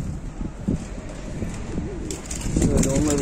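Domestic pigeons cooing outside their loft, several soft throaty coos rising and falling close by, with some rustling and a brief flutter of wings.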